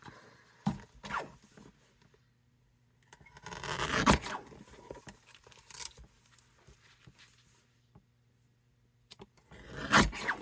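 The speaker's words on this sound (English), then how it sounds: "And then I'll trim that up." Paper strips trimmed for a handmade card, with irregular close scraping and slicing strokes, a longer rasping cut midway and another at the end, separated by quiet pauses.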